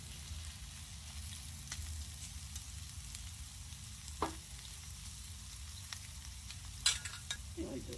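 Shrimp frying with onions and peppers in a pan, a quiet steady sizzle with a few soft clinks and scrapes and no talking.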